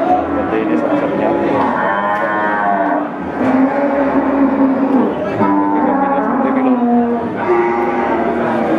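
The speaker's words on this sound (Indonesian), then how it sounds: "Seperti ini sapi-sapinya." Several Limousin cattle moo in long, drawn-out calls, one after another, close by against a busy livestock market background in Central Java, with some voices audible beneath.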